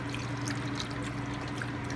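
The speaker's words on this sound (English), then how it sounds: "I pour it until it's at least covering pretty much the top of the chicken" Chicken broth pours over a whole chicken and carrots set up for an all-day roast, a steady, unbroken stream of liquid heard close up and alone, with no voices.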